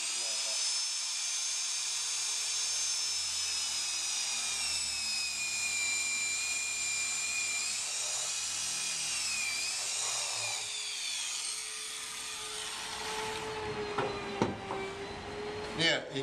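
A high-pitched electric drill whines steadily for a long stretch boring into timber, its pitch wavering as it bites, ending with a few clattering knocks near the end.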